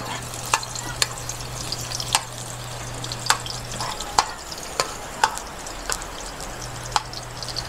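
Chopped garlic sautés in hot spring oil at the start of a pakbet, a steady close frying hiss broken by sharp clicks of a spatula against the pan roughly every second, with no talk.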